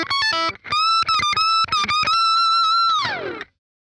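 Distorted electric guitar playing two bars of a solo: quick picked notes, a long held bent note with vibrato, then a slide down before it cuts off, loud and alone.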